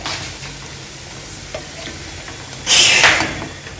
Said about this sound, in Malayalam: ഇപ്പൊ ഇതെല്ലാം നന്നായിട്ട് കുക്കായി നല്ലതുപോലെ ഫ്രൈ ആയി വന്നിട്ടുണ്ട്